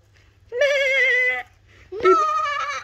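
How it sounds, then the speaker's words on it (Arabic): Two loud, wavering bleats, the first long and steady, the second rising sharply, close by with a brief silence between them. "ده فعلا صوت خرفان"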